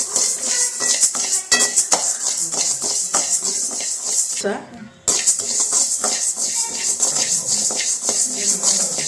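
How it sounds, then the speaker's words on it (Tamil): Raw rice being dry-roasted in a metal pan, giving steady scraping and rattling as a spoon stirs it against the pan, with clinks throughout and a short pause midway. "இப்போ வந்து பச்சரிசி வறுத்துக்கலாங்க"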